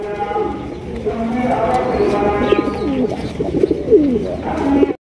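Pigeons coo in low, rolling bursts close by at a pigeon farm while someone talks over them throughout.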